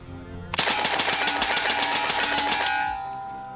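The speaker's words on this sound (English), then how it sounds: "comparing it to the other 45 ACP submachine gun we've got out here on the range, the M3 grease gun, let's compare that rate of fire real quick" An M3 grease gun .45 ACP submachine gun fires one sustained full-auto burst outdoors on a range, a loud, evenly spaced stream of shots lasting over two seconds before a short ringing tail.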